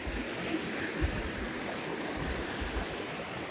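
A river flows under a bridge in a woodland ravine, a steady broadband rush of water that stays close and even throughout with no voices.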